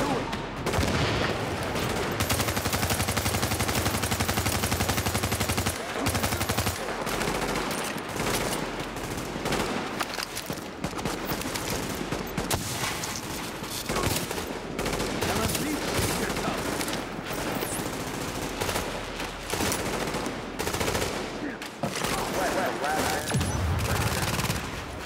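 Sustained bursts of automatic gunfire from Tom Clancy's The Division, loud and continuous for a long stretch with brief pauses between volleys.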